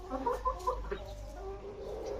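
A hen clucks softly a few times, then falls quiet over a low background hum.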